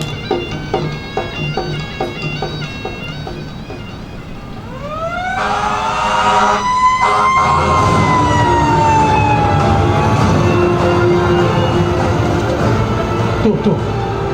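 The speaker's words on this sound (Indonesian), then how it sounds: "Coba kamu dengar suara sirine. Pasti itu ada kebakaran." A fire truck siren wails over traffic on the outskirts of Makassar, rising in pitch and sweeping loudly after a quieter start with rhythmic clicking, then holding a long steady howl nearby.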